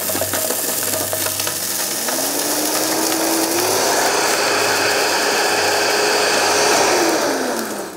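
VitaPrep 3 blender grinding toasted allspice, cloves, peppercorns, cinnamon and nutmeg into powder, a loud rattling, grinding whir whose motor pitch rises and holds steady before winding down, close and continuous.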